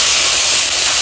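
Chopped banana flower hitting a hot pan of oil, cumin paste and bay leaf for Bengali mochar ghonto, giving a loud, steady sizzling hiss that fills the whole moment.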